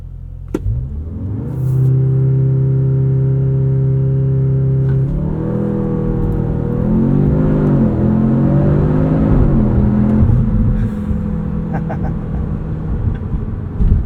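A 2025 Audi S3 with a six-speed manual makes a launch-control start: the engine holds a steady high idle, then surges in a loud, climbing roar with rising and dipping pitch as it pulls away hard.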